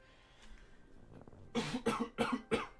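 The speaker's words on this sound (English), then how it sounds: "I'm gonna cough." A short run of four or five harsh coughs, close and fairly loud, after a quiet moment with faint rustling.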